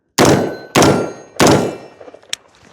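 Semi-automatic rifle fitted with a regular lower receiver firing three loud, close shots about two-thirds of a second apart, each with a long ringing decay, followed by a faint metallic ping.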